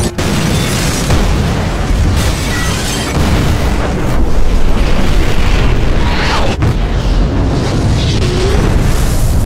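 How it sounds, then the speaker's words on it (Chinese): A bomb blast in a Korean monster drama set in a wartime hospital, heard as a long, loud, dense roar of explosion and rumbling debris that fills the whole stretch with no let-up. "彩玉父亲这边已经点燃了炸弹"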